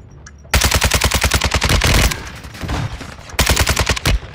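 Automatic gunfire in Call of Duty: Modern Warfare II sounds as loud, rapid bursts of shots close by, one long volley, then a short gap and another burst.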